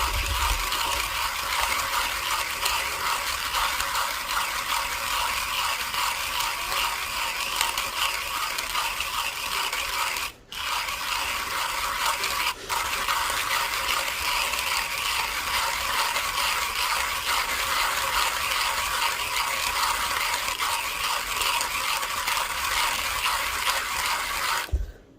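A coffee grinder grinds light-to-medium roasted Flores anaerobic washed coffee beans with a steady, loud, gritty mechanical whir, broken by two brief pauses, with no talking.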